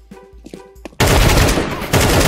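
Brief quiet voices and clicks give way to a sudden loud burst of rapid video-game gunfire that rattles on continuously to the end.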